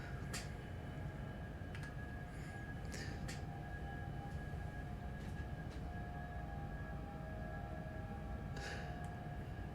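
Steady train rumble from The Long Haul video game, a constant low drone with a faint high whine and occasional sharp clanks, running alone without any voices.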